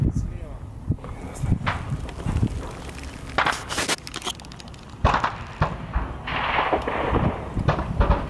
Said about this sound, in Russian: Нет, из-за зеленки стреляют.